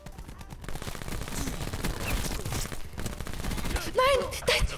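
Gunfire in the video game Call of Duty Black Ops 4 rattles in rapid automatic bursts throughout, dense and close, with a voice breaking in near the end.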